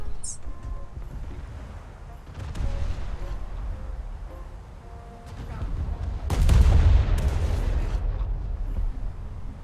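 Heavy naval guns of the Japanese cruiser Furutaka firing in a warship battle game, booming low-end blasts with a big sustained roar midway, heard under ongoing talk.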